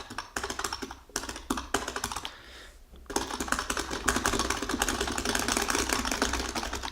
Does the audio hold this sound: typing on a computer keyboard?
yes